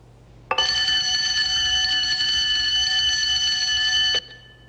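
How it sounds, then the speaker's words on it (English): An alarm system check signal in a Thunderbirds episode sounds as one loud, steady electronic tone that starts sharply, holds for about three and a half seconds and cuts off cleanly, with no talking. "You know, that's some alarm system."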